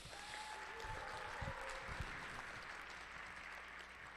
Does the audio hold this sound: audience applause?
yes